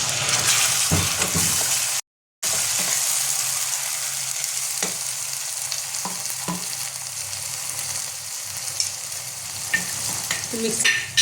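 Spice paste added to reddened fried onions in a hot pan, sizzling loudly and steadily with occasional stirring clinks and pops; a brief silent gap early, no talking.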